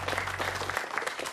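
A studio audience at a Czech talk show claps steadily, a dense close round of applause.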